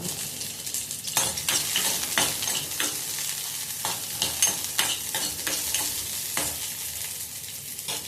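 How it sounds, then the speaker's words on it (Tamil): Ginger and garlic sautéing in hot oil while being prepared for a ridge gourd chutney, a close steady sizzle broken by repeated scraping stirs of the spoon, with no talking. "அப்புறம் மறுபடியும் கொஞ்சம் எண்ணெயை ஊற்றிக்கலாம். இஞ்சியும் பூண்டும் வதக்கிக்கிறோம்."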